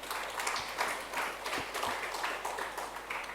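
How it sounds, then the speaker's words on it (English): An audience at a corporate event for Sportstar applauds in a steady wash of clapping that is fairly faint and continuous, with no voices over it. "can we all give them a big round of applause"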